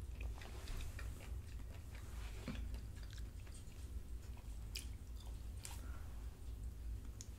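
Spicy tteokbokki rice cakes being chewed up close, with steady wet, squishy mastication and soft biting sounds running continuously, no talking.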